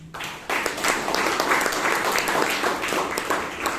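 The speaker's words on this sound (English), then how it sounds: "I think it requires a good round of applause." A Toastmasters meeting audience in Bangalore breaks into a round of applause that starts abruptly and continues steadily as a dense wash of many hands clapping, moderately loud and close, with no talk over it.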